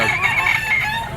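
A stag rooster at a gamefowl market lets out a brief, loud, close crow with a strained high tone, heard alone without talk.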